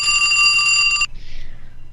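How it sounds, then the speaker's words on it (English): A telephone rings for an incoming call, a bright electronic trill lasting about a second before it cuts off, loud and close, followed by a faint fainter tone. "Oh, we're getting a call"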